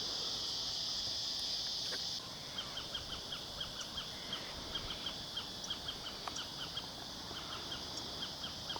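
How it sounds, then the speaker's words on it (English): Cicadas shrilling in a loud, dense buzz that cuts off after about two seconds, followed by quieter, evenly pulsing chirps. "Listen to the cicadas"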